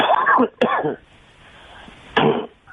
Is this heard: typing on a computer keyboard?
no